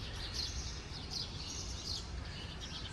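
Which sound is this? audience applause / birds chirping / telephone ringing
birds chirping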